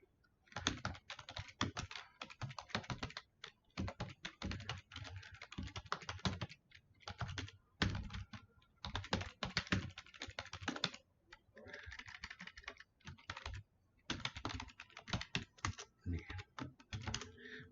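Typing on a computer keyboard while entering reply text into a Line OA business account, bursts of rapid key clicks with brief pauses, close and steady throughout.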